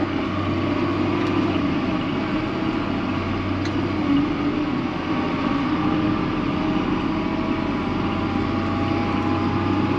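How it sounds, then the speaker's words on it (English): A tractor engine runs with a steady, deep, close rumble that holds evenly throughout, with no speech over it. "Love these tractors, they just roar."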